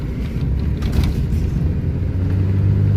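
A pickup truck drives on a farm, giving a steady low engine rumble close to the microphone that holds constant throughout with a slight rise near the end. No voices are heard.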